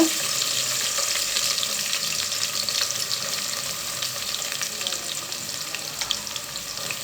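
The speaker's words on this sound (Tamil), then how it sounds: "இது எண்ணெயில் வதங்கிட்டுருக்குது" Finely chopped small onions sizzle and crackle in hot oil for mutton biryani, a steady close frying hiss with small pops throughout.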